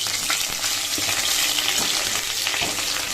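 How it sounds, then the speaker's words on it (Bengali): Potatoes fry in hot oil tempered with bay leaf, dried red chilli and cumin seeds, giving a close, loud, continuous sizzle broken by occasional stirring scrapes. "তেজপাতা শুকনো লঙ্কা জিরা ফোড়ন দিয়ে আলুটাও আর কি ভেজে নিচ্ছি"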